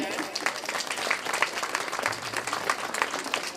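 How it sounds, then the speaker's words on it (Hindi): Audience applause at a Bhagavat Katha religious gathering, dense continuous hand clapping from a large crowd, moderately distant and even throughout, with a faint voice underneath. "ताली अवश्य बजाएं,"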